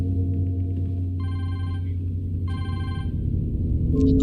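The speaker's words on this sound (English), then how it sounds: "Encore un appel." A telephone rings twice in a TV drama episode, two clear electronic bursts heard over a steady low rumble, with no talking.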